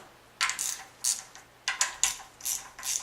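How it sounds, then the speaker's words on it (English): Nuts being loosened with a ratchet on the intake cam of a BMW M52 engine, several short bursts of crisp clicking close by, evenly spaced and separated by brief pauses. "We're going to go ahead and loosen the nuts here for the intake cam."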